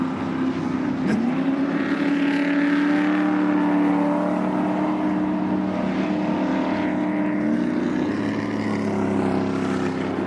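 A 4x4 racing truck at a Crandon, Wisconsin off-road event, its engine droning loudly and steadily on a gravel pit track, pitch rising and falling with acceleration across the whole stretch.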